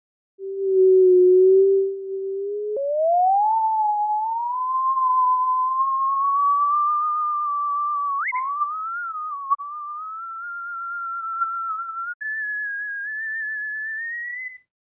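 A Ganges River dolphin recording plays back as one steady whistle-like tone that glides upward in pitch, with small steps and a trilling texture, clear and alone with no talking.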